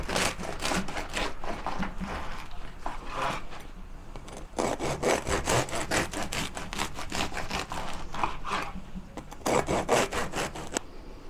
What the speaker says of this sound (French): Alors je vais déjà couper le pain, comme ça c'est fait